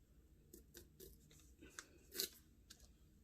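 Scissors snip paper for a planner in a quiet room, several short crisp cuts spaced irregularly, one louder snip near the end.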